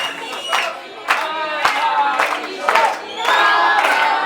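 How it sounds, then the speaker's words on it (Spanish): A camp audience of young people cheers and shouts in loud, repeated bursts, with applause mixed into the crowd noise. "¡Fuerte el aplauso!"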